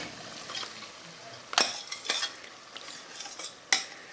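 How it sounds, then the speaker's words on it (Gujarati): Lentils are stirred into a masala gravy in a pan, with a faint simmering hiss and intermittent sharp metallic scrapes and clinks of a spoon against the pot. "આમાં દાળ નાખી દેવાની"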